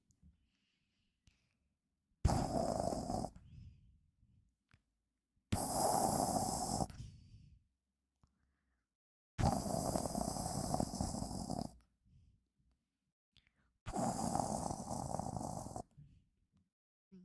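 A pet snores in four long, loud rasping breaths spaced a few seconds apart, each drawn out over about a second or two, with quiet gaps between and no talking.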